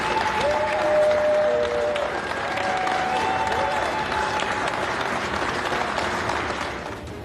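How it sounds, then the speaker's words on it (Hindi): Staff members clap together as colleagues carry out boxes of COVID-19 vaccine, a steady, moderately loud round of applause with some crowd murmur and faint tonal sounds running through it, tapering slightly at the end. "उनका हौसला बढ़ाने के लिए बाकी कर्मचारी तालियां बजाने लगे"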